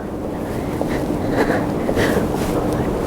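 Strong wind on a Tokyo street, a loud continuous roar buffeting the microphone with gusty swells throughout, no talking heard.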